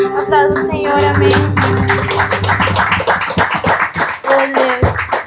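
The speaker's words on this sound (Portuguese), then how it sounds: "Aplauda o Senhor, amém." A church congregation claps together during a worship celebration service, sharp rhythmic hand claps layered over sustained musical tones and a few voices, loud and close with a steady beat.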